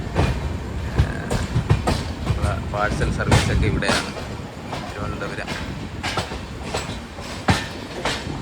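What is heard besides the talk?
train leaving Thiruvananthapuram Central station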